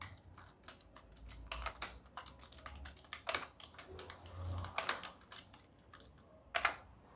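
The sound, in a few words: typing names on a computer keyboard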